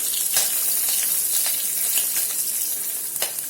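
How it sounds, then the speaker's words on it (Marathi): Asafoetida and slit green chillies hit hot oil for Maharashtrian kadhi, giving a loud, continuous crackling sizzle with bright spattering pops close by and no talking. "त्याच्यानंतर थोडं हिंग टाकायचं दोन उभ्या चिरलेल्या मिरच्या टाकायच्या"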